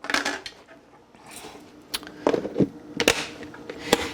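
Small metal baking sheet picked up and handled in a kitchen, giving scattered light clanks, taps and scrapes of thin metal at close range with short quiet gaps.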